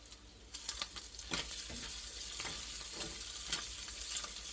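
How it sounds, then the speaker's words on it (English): Onions for pierogies fry in a pan with a loud, constant sizzle, close up, and stirring scrapes and taps cut through it now and then. "You fry up the onions till they're browned."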